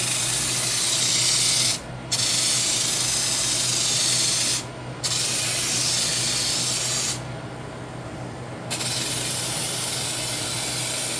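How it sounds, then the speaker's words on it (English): A steady, loud spray of rinseless car wash solution hisses continuously into a bucket, stopping briefly three times before starting again, close to the listener. "we're going to spray it right back in the bucket"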